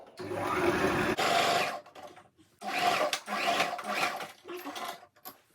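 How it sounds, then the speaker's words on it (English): A sewing machine stitches tulle mesh fabric in steady bursts, with a rapid mechanical whir, pausing briefly between runs. "Now let's stitch."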